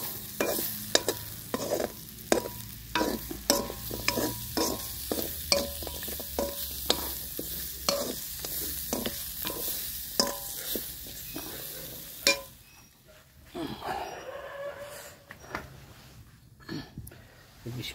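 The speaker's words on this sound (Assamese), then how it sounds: "আৰু যিখিনি হাড্ডি আছিলে সেইখিনি ইয়াতে ভাজি আছোঁ, ফ্ৰাই কৰি আছোঁ" Pork bones fry in a pan, stirred with quick, rhythmic scraping strokes over a steady sizzle for most of the time, then the stirring stops and a quieter, uneven sizzle carries on.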